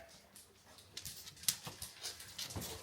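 A dog whimpers and whines in short, soft bursts that come closer together toward the end, close by and fairly quiet, with no talk over it.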